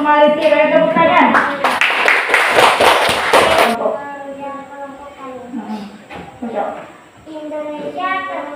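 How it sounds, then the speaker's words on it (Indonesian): A classroom of children claps hands together in a loud, brief burst of about two seconds, framed by children talking before and after. "Dari kelompok maritim, ada tepuk tangan."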